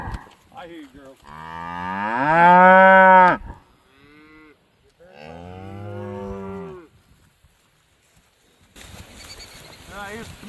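A cow in a pasture, ready to switch paddocks, lets out two long, loud, close moos separated by a pause, followed by faint rustling and background noise.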